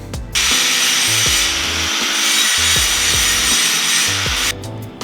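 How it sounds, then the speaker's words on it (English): A flap wheel buffing steel makes a steady, loud abrasive grinding hiss with a rumbling, shifting undertone, running continuously for several seconds before cutting off abruptly. "I've just given it a buff with the flapper wheel"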